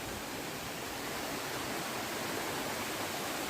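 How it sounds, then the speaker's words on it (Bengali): Waterfalls flowing after rain along a steep mountain path give a steady, dense roar of rushing water, unbroken and fairly loud, with no voices. "এখন আপনাদেরকে আরো নতুন নতুন ঝর্ণা দেখাইতেছি।"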